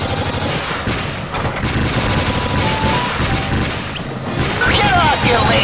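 Rapid bursts of gunfire from the player's gun in the video game Dark Chronicle, dense and continuous, mixed with game effects and music, with a voice talking over parts of it.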